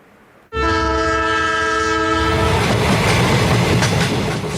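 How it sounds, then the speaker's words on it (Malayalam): Egmore Guruvayur Express train running past Kayamkulam in the early morning, a loud horn blast starting abruptly over the roaring rumble of the moving train, then the steady clatter continuing close by. "എഗ്മോർ ഗുരുവായൂർ എക്സ്പ്രസ് കായംകുളം പിന്നിട്ട് മുന്നോട്ട് കുതിക്കുകയാണ്"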